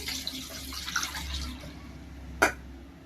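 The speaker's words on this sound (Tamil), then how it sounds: "ஃபஸ்ட்டு தண்ணி ஊற்றிக்கலாம்." Water is poured into a cooking pot to boil mutton for Chettinad mutton podimas, giving a soft, splashing stream close by that ends with a brief sharp clink.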